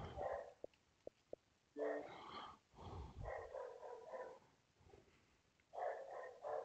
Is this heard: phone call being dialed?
no